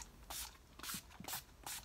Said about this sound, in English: To finish off this look, I'm gonna use some All Nighter Setting Spray Urban Decay.